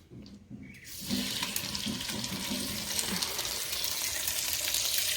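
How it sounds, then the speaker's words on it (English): Steady loud sizzling of chicken frying in a Dutch oven, a constant crackling hiss that swells after a brief quieter start and continues without pause. "It's already sizzling."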